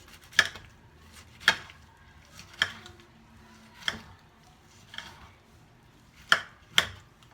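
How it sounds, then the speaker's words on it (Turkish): Sharp knife chops tomatoes on a cutting board, about seven irregularly spaced strikes with quiet pauses between them, close by and with no talking. "Hepsini doğruyorum."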